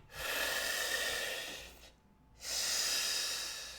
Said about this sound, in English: If you're feeling too much, just breathe into it.